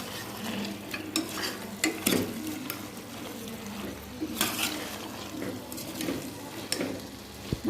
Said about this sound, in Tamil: சிக்கன் கொஞ்சம் நல்லா வதக்கட்டும்.